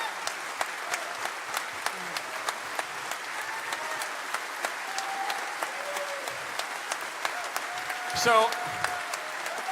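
Audience applause at a Pride encore livestream show: steady clapping of many hands running throughout, fairly distant, with a voice speaking briefly over it near the end.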